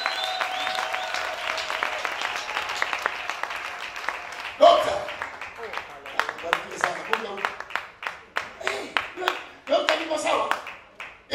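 A church congregation claps during a sermon, with rhythmic bursts of claps under a preacher's voice in the first half, then louder, spaced volleys of clapping that carry on to the end.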